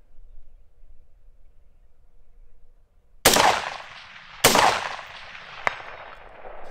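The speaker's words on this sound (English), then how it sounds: "I don't know if I'm hitting all those shots, but you can definitely rapid fire" Rifle fired rapidly at long range, sighted through a 3-9x40 AO scope: after a quiet stretch, two loud sharp cracks about a second apart, each trailing off in a long echo, followed by a faint distant ping.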